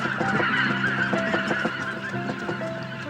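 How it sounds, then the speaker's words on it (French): Wild geese honk repeatedly in a noisy flock, overlapping calls rising and falling, fairly loud and close. "Les oies sauvages sont déjà de retour."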